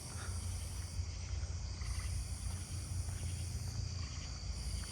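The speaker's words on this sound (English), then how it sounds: "I'm hearing a robust conehead faintly up that way." Insects fill the night with a continuous chorus, and a robust conehead katydid buzzes faintly in the distance against a steady low drone.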